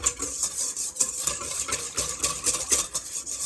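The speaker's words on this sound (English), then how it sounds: "Mix that up really quick." A patriotic fluff salad mixture is stirred briskly in a bowl, giving a run of repeated, close scraping and swishing strokes at a steady rhythm with no talk.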